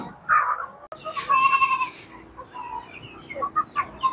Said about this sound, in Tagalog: Ito na po yung ating kambing.